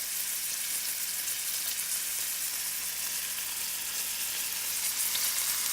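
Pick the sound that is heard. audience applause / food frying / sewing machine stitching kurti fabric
food frying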